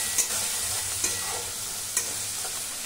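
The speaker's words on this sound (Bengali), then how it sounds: "একটু নাড়াচাড়া করে পেঁয়াজের সাথে ভেজে নেব।" Onions with turmeric and chili powder sizzle softly in a pan while a spoon scrapes through them in three sharp stirs, a steady fry hiss running underneath.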